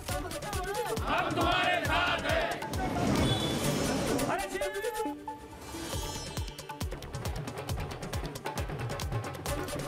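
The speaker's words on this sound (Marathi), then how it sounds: "फटाके फोडत मिठाई वाटत शिवसैनिकांची घोषणाबाजी." A crowd of Shiv Sena workers loudly chants slogans at a celebration in Bhiwandi with firecrackers and sweets, a dense, continuous wall of massed voices shouting throughout.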